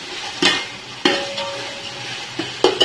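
Ginger garlic paste frying with chickpeas in a pot, heard as a low sizzle with several sharp stirring scrapes and clanks of a spoon against the pot.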